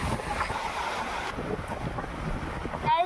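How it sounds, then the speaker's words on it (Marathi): Wind gusts hard across the seashore, rumbling steadily against the microphone as a broad, moderately loud roar with faint surf beneath, lasting a few seconds without letup. "इथे खूप जोराचा वारा सुटलेला आहे"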